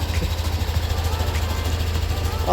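A Yamaha Aerox V2 scooter engine with a knocking, rattling fault idles close by in a steady low throb, with faint tapping overtones and brief voices in the background.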